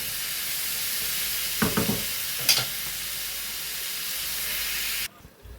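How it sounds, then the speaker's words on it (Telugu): Tomatoes fry with masala spices in a pan for a paneer curry, making a constant close sizzling hiss, with a few brief stirring scrapes in the middle and a sudden drop to quiet at the end. "టమాటాలు కూడా వేసి బాగా మెత్తగా అవ్వాలండి టమాటాలు కూడా ఇందులోనే వేగిపోతే బాగుంటుందండి మసాలాలు"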